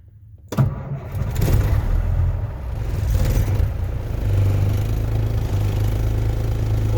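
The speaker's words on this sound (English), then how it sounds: "And then instead of actually turning the key further, you gotta push the start button." A semi truck's diesel engine starts with a push button, a sudden clattering catch after a brief quiet moment, then settles into a loud, steady idle rumble, close by with no talk.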